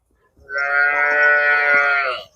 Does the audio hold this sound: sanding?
no